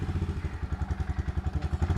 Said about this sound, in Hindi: बाइक संभल नहीं रही है